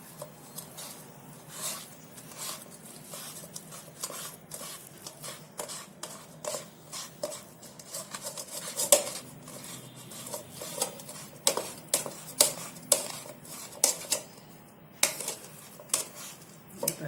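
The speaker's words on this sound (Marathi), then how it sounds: "ना मी ह्या चाळणीतून आहे ना, पुरणाची चाळणी आहे त्याच्यातून हे काढू राहिले असे" Boiled potatoes are pressed and rubbed through a puran sieve for sabudana and potato papad, making soft, quiet scraping and rasping strokes. The strokes come in an irregular rhythm that grows more distinct later on, over light kitchen clatter.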